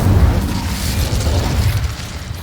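An Incendio fire spell cast in a Harry Potter video game: a heavy low booming burst that rolls and rumbles for a couple of seconds, loud and close, then fades, with no speech over it.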